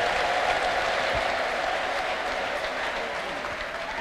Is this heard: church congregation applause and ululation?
yes